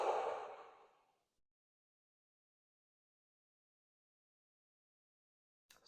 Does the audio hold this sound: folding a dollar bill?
no